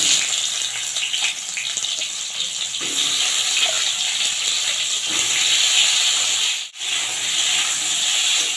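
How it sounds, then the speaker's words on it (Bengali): Whole pointed gourds (potol) fry in oil over a low flame, a steady, close hissing sizzle that runs on continuously with one brief dip near the end and no voices. "এবারে পটলগুলো ভেজে নেব।"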